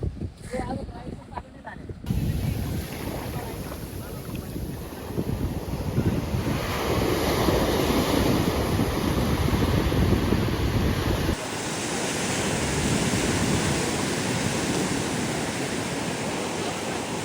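Waves break on an empty beach in Goa in a loud, continuous wash of surf, with wind buffeting the microphone; brief voices are heard at the very start.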